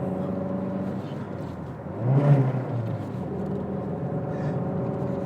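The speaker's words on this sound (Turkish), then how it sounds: "Motor oldukça sesli. Yani kabine sesi çok fazla alıyor" A Fiat Tipo 2.0 16v Sport engine revs as the accelerator is pressed, a steady droning hum heard from the cabin that swells briefly into a louder rev before settling back to idle.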